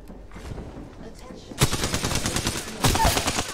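Video game gunfire: a quiet stretch of low rumble, then two loud bursts of rapid shots close up, each sharp onset followed by a dense rattling tail, with faint talk underneath.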